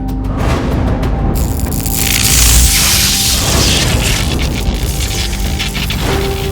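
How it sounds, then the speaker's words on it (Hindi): Cartoon gunfire as Gulli and Bulli shoot at aliens, heard as a loud, dense wash of booming blasts and crashing whooshes that runs without a break to the end. "गुल्ली और बुल्ली एलियंस पर गन फायर कर देते हैं, जिससे वह दोनों एलियंस मर जाते हैं"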